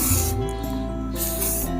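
Care liquid is sprayed onto Bohler N695 steel knives as a steady, close hiss that runs the whole time, over a constant low hum.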